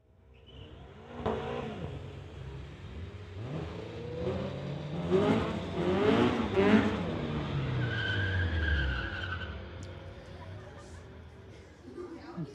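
A 2018 Golf R and a 92 Honda launch in a street-legal drag race, engines revving and rising in pitch with tire noise, loud and close, while an announcer talks over them.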